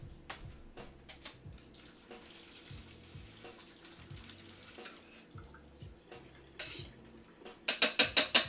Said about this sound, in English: I'm gonna drain some of the water out.